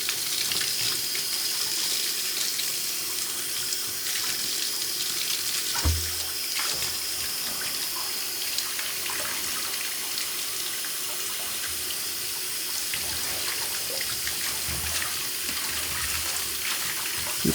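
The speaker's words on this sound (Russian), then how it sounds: "После чего включается вода промывная и происходит промывка пленки" Rinse water running through a LOMO film processing tank: a continuous close gush and splash of tap water, steady and unbroken throughout, with no voices.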